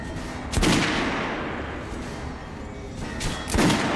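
Two heavy gunshots ring out in Metro Last Light, aimed at training dummies on a firing range, each a sharp loud blast separated by about three seconds, with a long echoing decay and a dull thud of impact after each.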